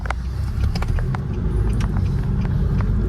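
Right-hand drive car on the move in Ukraine, a steady low road rumble and engine drone filling the cabin, with a few faint clicks and knocks over the continuous noise.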